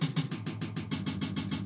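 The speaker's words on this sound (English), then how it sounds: "In pattern 5 we got a nice tom-tom solo." Programmed drum machine beat playing a tom-tom solo pattern: about ten evenly spaced, punchy hits in quick succession, moderately loud and close, with no voices over it.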